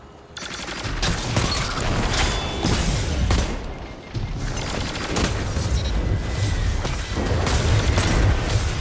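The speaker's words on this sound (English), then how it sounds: "Might shoot a nade launcher preemptively." Loud booming blasts from a grenade launcher in the sci-fi shooter Destiny 2 during competitive Rumble play, heavy overlapping explosions and gunfire rolling through nearly the whole stretch.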